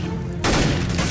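Gunfire in a shooter video game bursts in abruptly partway through, a loud, dense volley of rapid shots after a quieter opening.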